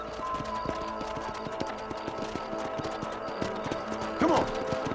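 A horse gallops in the Red Dead Redemption video game: a steady, rhythmic patter of hoofbeats runs throughout under a bed of ambience, with a brief voice near the end.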